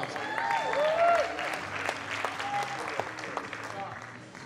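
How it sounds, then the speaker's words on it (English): Audience applause for bikini masters contestants at a physique competition, a steady wash of clapping that peaks early and then tapers, with a voice and a few tonal whistles or cheers over it. "Give them a round of applause."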